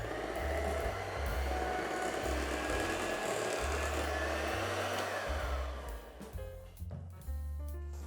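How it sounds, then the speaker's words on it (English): An electric hand mixer whirs through double cream and cheesecake mixture, steady and close, before the motor sputters and changes pitch near the end as the blend thickens. "So I'm going to mix this in now till it's nice and thick"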